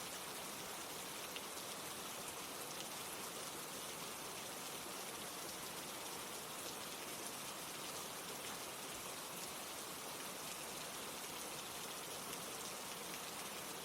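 Steady rain falls continuously and evenly, a dense broadband hiss of drops on surfaces with no pauses, voices or other events throughout.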